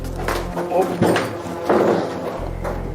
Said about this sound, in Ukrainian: Зараз ми в тамборі відкриваємо двері і проходимо всередину.